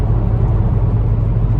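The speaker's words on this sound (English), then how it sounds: "So I'll just go for a quick drive around and show you different speeds" A BMW 335i N54 M Sport Touring engine hums steadily while driving, a loud, even low rumble with road noise inside the cabin and no talk.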